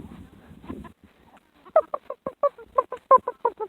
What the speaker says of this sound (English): Get back here, little chicken!